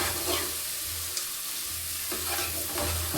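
Onions sautéing in a pan for a home-style mushroom gravy, a steady close sizzle with a spatula stirring and scraping through it, and no voices.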